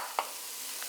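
A spoon stirs cardamom into halwa in a pan, giving a soft sizzling scrape with one brief clink of utensil against the pan and another faint tap near the end.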